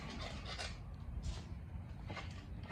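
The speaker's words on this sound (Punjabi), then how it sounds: "ਬੋਬੀ ਪੇਂਟਰ ਇੱਧਰ ਖੁਰਚ ਰਿਹਾ" Rough scraping strokes against a Ford tractor's body, a few uneven rasping passes close up, fairly quiet with a low rumble underneath.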